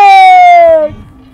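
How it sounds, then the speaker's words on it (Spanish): Tudanca cattle in a mountain pasture give a single loud, drawn-out moo that holds a steady pitch for almost a second and then fades into quiet outdoor background. "Mira dónde hay vacas arriba."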